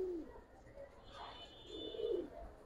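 Racing pigeons coo softly, a few low, rolling calls close by with quiet background hiss.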